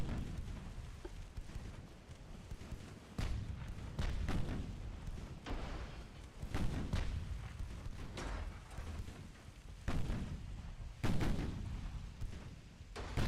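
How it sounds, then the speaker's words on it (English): Enemy naval artillery gunfire in a video game campaign, a series of heavy booming shots and rumbling impacts at irregular intervals over a continuous low roar, loud and sustained. "Oh, he's firing back at us."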